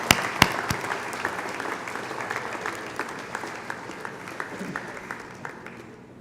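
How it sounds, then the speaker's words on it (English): Convocation audience stands and applauds family and friends, a moderate hall-filling patter of many hands with a few sharper close claps early, gradually thinning toward the end. "I invite you to stand up, turn around, and applaud your family and friends to show your appreciation."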